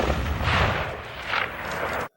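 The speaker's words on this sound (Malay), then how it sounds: "mendengar tembakan senapan" A rifle shot in a film booms with a loud burst and a rolling, echoing tail, followed by a second swell before the sound cuts off.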